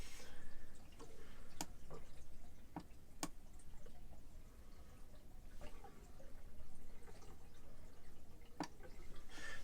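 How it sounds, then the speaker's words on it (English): Water trickles down into the water tank of a NuCamp 400 camper, heard as faint, irregular drips and soft ticks spaced apart over a quiet background. "it must have something to do with the water running down"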